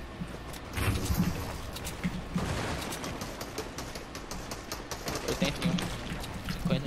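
Bursts of gunfire crackle through busy video-game noise, a few sharp shots scattered across the clip amid rumbling background sound.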